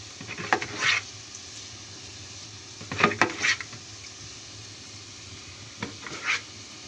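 Chicken frying in ghee in a pan makes a low background sizzle, broken by three short bursts of scraping and stirring clatter close by.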